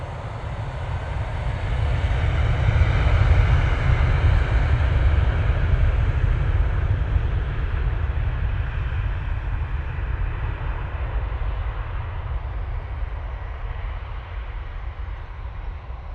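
A Helvetic airliner jet passes at Manchester Airport, its broad engine roar swelling within the first few seconds and then holding steady and loud, with no one speaking over it.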